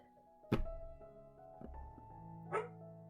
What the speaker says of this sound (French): j'ai mes 2 chiens qui dorment à côté de moi. Donc, ça ronfle, ça rêve.